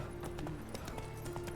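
Roach, Geralt's horse in The Witcher video game, gallops with quick, rhythmic hoofbeats clopping close by over a low steady hum, brief and moderately loud.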